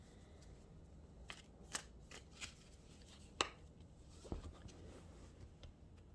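Tarot cards are handled and pulled from a deck. Quiet, close riffling and soft snaps of cards come in brief bursts over a faint background hum.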